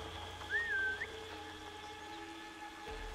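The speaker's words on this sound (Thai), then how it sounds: "ผิวปากต่อ" A character whistles once to lure a guard in Assassin's Creed Valhalla, a short rising and falling whistle over a quiet game ambience with a low hum.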